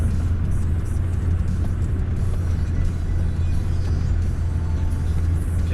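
A Land Rover Discovery 2 with a TD5 diesel engine crawls off-road in first gear near Langenaltheim, making a steady, loud, low engine rumble that continues throughout.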